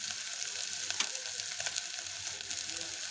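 Ingredients for moong dal medaga being sautéed in a pan, a close, steady crackling sizzle with small pops and faint stirring sounds, and no one talking.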